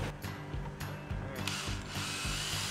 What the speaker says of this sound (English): a little drill pump. So we're taking it from the bilge and right into the bucket